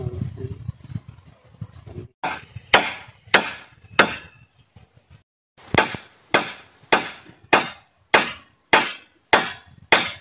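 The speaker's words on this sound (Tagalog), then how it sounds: "Hindi niya kaya malakas na palo. Tuyo na kasi mga kahoy." A hammer drives nails into dry wood with sharp, evenly spaced wooden knocks, close and loud, first a few scattered blows after some low rustling, then a steady series of about ten strikes.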